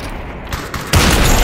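A short burst of gunfire in a multiplayer video game, quieter at first and then jumping to a loud, dense crack of shots for the last half second.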